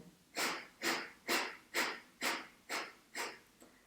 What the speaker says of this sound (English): Everything kind of crunches in to release the air strongly out through my nostrils.